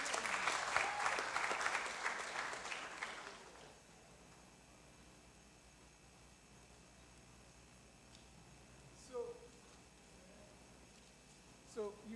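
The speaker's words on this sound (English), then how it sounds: "please clap for them again" An audience applauds in a room, a few seconds of lively clapping that stops abruptly, followed by quiet with a couple of brief voice sounds.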